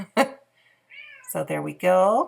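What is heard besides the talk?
pet cat meowing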